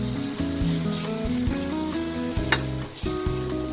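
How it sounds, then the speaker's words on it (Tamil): Tomatoes sauté in a pan of softened onions for an egg gravy, giving a steady, close sizzle and frying hiss with occasional stirring scrapes throughout. "இப்போ தக்காளி சேர்த்துக்குவோம். தக்காளி நல்லா வதங்கிக்குவோம்."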